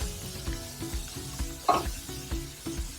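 Zucchini noodles sizzling in a pan, with a utensil stirring them in repeated rhythmic scrapes over a soft continuous fry and one brief clatter.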